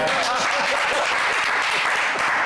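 Steady, dense applause from a church congregation at a morning worship service, loud and continuous throughout with no clear pauses.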